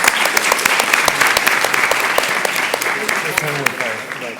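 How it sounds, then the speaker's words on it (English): An audience at a Latino education and advocacy event claps steadily in a dense, loud burst of applause, with scattered voices mixed in. "Let's get another round of applause"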